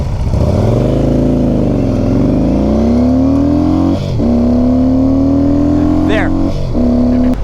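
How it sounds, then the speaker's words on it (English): A Harley-Davidson motorcycle revs up hard through the gears, the rising engine pitch dropping sharply at each shift and climbing again, loud and close, with a rider talking over it. "Let's go do a 0 to 60. Let's see what this thing can do. Shifting gears feels great."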